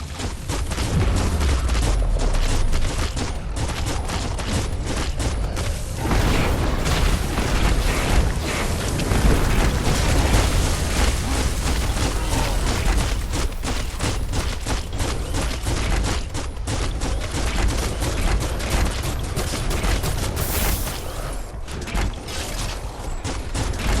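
Dense, continuous bursts of gunfire and mechanical clatter from the action game Biomutant on PlayStation 5, loud and sustained with rapid overlapping shots and impacts throughout.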